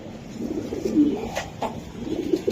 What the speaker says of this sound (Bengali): মাশাআল্লাহ নর কবুতর